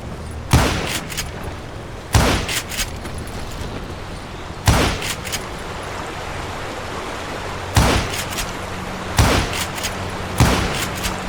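Gunshots in the Western shooter Call of Juarez Gunslinger, six loud sharp cracks spaced unevenly a second or two apart, each with a short echoing tail over a steady low background.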